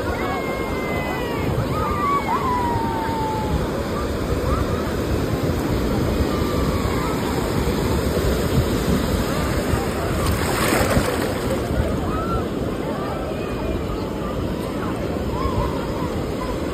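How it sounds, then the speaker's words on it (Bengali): Ocean surf rolls in at Puri sea beach as a constant loud wash of waves and wind, with voices talking faintly over it. "আজকে চলে এসেছি সি বিচে, পুরীর সি বিচে"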